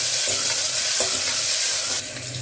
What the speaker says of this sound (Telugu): నెక్స్ట్ ఆనియన్స్ వేసుకోవాలి. ఫ్రై చేసుకోవాలి.